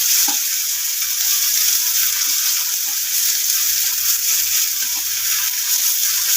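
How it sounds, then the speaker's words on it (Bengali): Onion with garlic and ginger paste fries in a pan, making a constant bright hiss close up with occasional soft taps of a stirring spoon and no voices. "এখানে আমি রসুন বাটা, আদা বাটা দিয়ে দিলাম। এটাকে একটু নেড়ে চেড়ে ভেজে নেব।"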